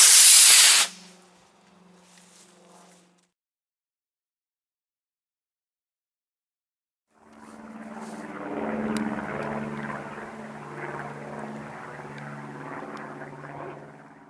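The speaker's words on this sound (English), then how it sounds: "Successful launch with the Estes Sizzler." An Estes Sizzler model rocket launching with a loud sharp hissing burst that cuts off quickly, followed by silence and then a distant rumbling roar that carries on to the end.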